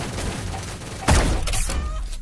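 Gunfire erupts in a shooter video game pitting shotguns against snipers: a loud, booming blast cuts in over a dense, noisy game background midway through.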